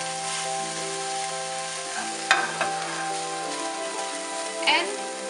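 Meat sizzles and fries steadily in a pan during home meal-kit cooking, a continuous crackling hiss with a couple of sharper clinks from a utensil stirring against the pan.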